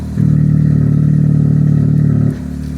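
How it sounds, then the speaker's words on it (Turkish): A car idles with its remote-controlled exhaust valve open, a loud, steady, deep droning rumble that holds for about two seconds and then cuts back to a quieter idle. "egzoz açık hali bu"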